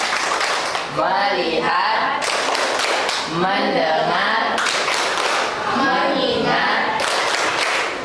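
Pupils in a classroom perform a focus-clap routine, with sharp rhythmic hand claps alternating with the group chanting in unison throughout.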